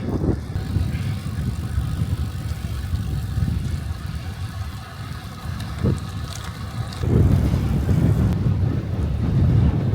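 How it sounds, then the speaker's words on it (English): Strong wind buffets the microphone while cycling, a low, rumbling roar, steady with gusts swelling louder toward the end. "A little bit windy now."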